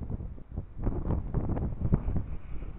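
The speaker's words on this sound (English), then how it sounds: "Yeah, wind's picking up." Wind gusting over a bay at night with whitecaps forming, a steady low rumbling buffet against the microphone that swells and eases without pause.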